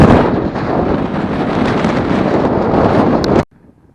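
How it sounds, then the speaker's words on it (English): Strong wind buffets the microphone on an exposed fell top near Great Calva, a loud continuous roaring gust that stops abruptly just before the end. "it's just so windy up here"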